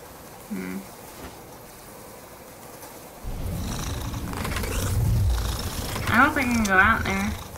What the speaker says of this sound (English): The cat sounds cute.